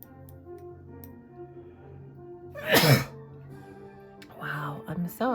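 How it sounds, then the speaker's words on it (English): A sudden loud sneeze breaks through mid-clip from someone doing a watercolor painting, with quieter sniffs and a second smaller burst after it, over a steady low background hum. "Sorry for all the sneezing"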